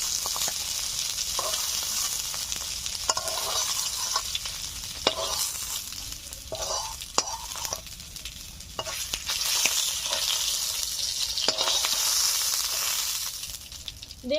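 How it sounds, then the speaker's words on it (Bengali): Pieces of stingray fry in hot oil, a steady close sizzling hiss with intermittent clicks and scrapes of a utensil turning and lifting the fish, no voices. "সবগুলো মাছ ভেজে নিয়েছি, তুলে নিচ্ছি।"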